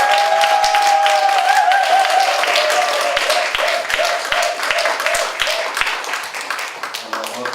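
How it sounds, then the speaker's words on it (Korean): An audience at an author's lecture breaks into loud, sustained applause to welcome the speaker to the front, a dense wash of many clapping hands that thins slightly toward the end. "큰 박수 부탁드리겠습니다"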